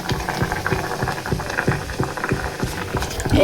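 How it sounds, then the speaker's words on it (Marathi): Chicken curry boils in a pot, a close, steady stream of bubbling and popping with small irregular bursts throughout, heard alone. "आवाज बघा शिजते कसं."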